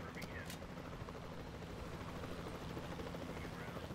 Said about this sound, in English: Turn, helicopter, turn!